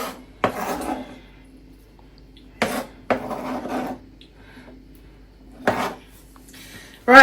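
A big cooking pot is handled on a stove, giving several separate scraping, clanking knocks of metal against the burner with quiet gaps between them, close by and with no talk.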